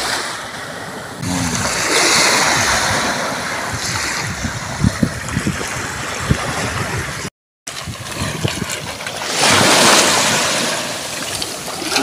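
Sea waves wash against the shore where freshly gathered river shells are rinsed of mud and sand, with surging, hissing swells and wind noise rising and falling and a brief dropout midway.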